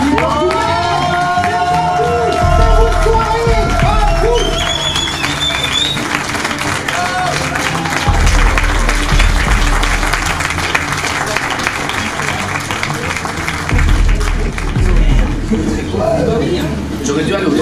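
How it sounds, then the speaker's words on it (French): Loud crowd applause and cheering at a gallery opening for a web series, sustained clapping with whoops and shouts that continues throughout. "s'il vous plaît, un gros applaudissement pour cette web série"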